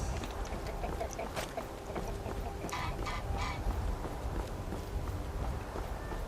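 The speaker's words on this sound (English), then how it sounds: "I had quite a fun time listening to that bird" A bird calls repeatedly in a video game, giving honking, goose-like cries in scattered bursts over a constant background ambience.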